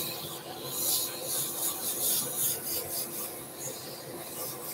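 Sandpaper rubs across the edge of a wooden sun hat box turned on a lathe, producing a continuous close abrasive rasp that swells and eases in gentle strokes.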